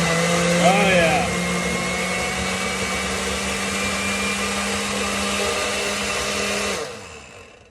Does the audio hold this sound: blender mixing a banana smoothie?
yes